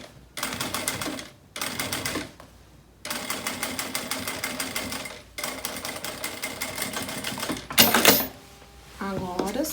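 Rapid mechanical chatter of a sewing machine topstitching a tote bag seam in several bursts separated by brief pauses, followed by rustling fabric handling, with someone speaking softly in between.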